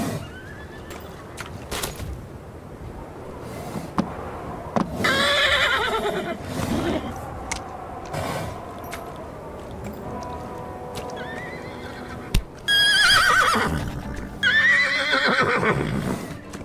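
A horse in a Roblox Wild West game neighs and whinnies loudly several times, with long shrill calls standing out over clip-clopping hooves and outdoor game ambience.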